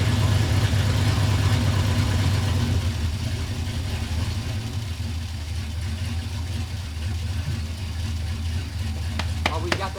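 A boat motor idling low with its muffler cut off, a steady close rumble that holds evenly throughout, with a few faint knocks near the end.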